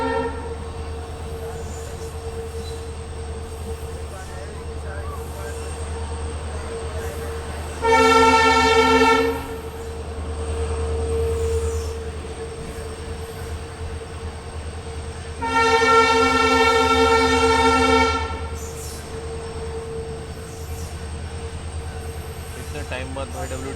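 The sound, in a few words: diesel locomotive train running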